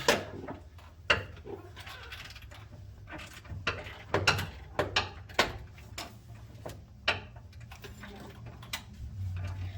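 A hand ratchet clicks while loosening a transmission nut on a 2006 Chevy Silverado, with irregular bursts of sharp ticks and clacks over a low hum, up close.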